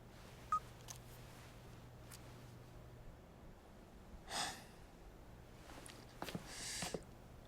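A telephone number is dialed on a keypad: a few short, quiet electronic beeps spaced out over a faint background hiss, with no talking.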